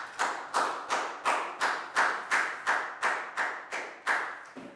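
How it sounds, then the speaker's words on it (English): Students in a Year 4 math lesson clapping a rhythmic round of applause, about ten evenly spaced, crisp unison claps heard close and fairly quiet, with no talking. "Big round of applause for Dawn."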